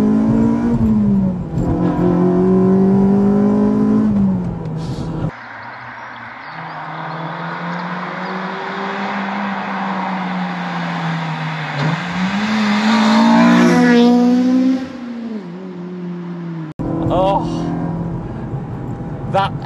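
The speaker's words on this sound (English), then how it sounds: "That engine note absolutely changes, doesn't it? As soon as you flick into that VTEC zone, it just screams at you" Honda Civic Type R FD2, a rare JDM import, revs hard on a smooth open road, its engine note rising and hardening into a high-rpm scream, with gear changes breaking the climbs and someone talking over parts of it.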